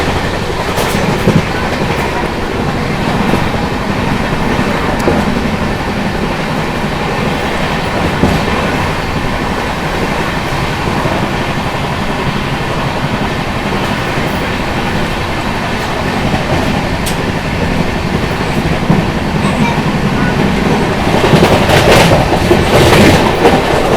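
An express train races past at high speed on the Ghatkesar skip near Hyderabad, with a loud, continuous roar and rhythmic wheel clatter close by throughout.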